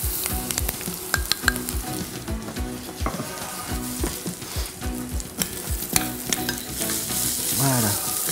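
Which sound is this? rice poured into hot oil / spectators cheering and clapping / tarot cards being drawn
rice poured into hot oil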